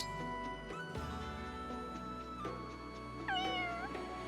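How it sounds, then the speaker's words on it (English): A cat meows twice in Fire Emblem Engage, with a short mew and then a clearer drawn-out one, both set over steady in-game background music. "That is a cat. It's the cat that I want."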